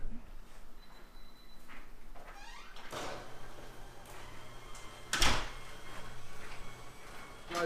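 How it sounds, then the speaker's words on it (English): A door clicks and swings open with a creak and a thump, amid quiet indoor background noise and a faint hum. "Door opening."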